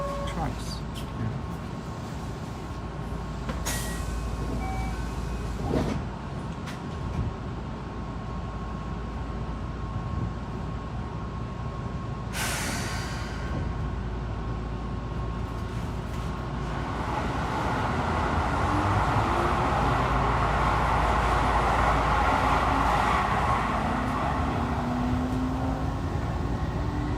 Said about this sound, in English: So we're in the Keihan train between Kyoto and Osaka, reaching Osaka.